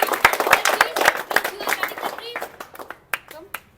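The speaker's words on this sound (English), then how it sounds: "Yeah, big clap." Clapping rings out in a classroom during a debate, a run of irregular sharp claps that thins out toward the end, with voices talking in between.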